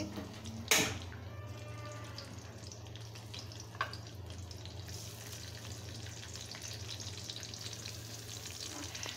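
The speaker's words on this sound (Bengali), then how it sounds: "এখন আমি প্রথমত পেঁয়াজ কুচি দিয়ে দিচ্ছি।" Chopped onion hits a very hot wok used for frying fish, a sharp burst followed by a long, even hiss of frying with a faint clink partway through.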